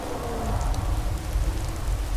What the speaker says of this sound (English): Now we're back to the rain.